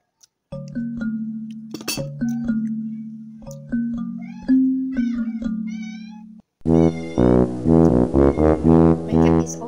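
A hungry pet cat meows repeatedly, long tonal cries at close range, followed by a louder, rougher burst of rapid yowls at the end.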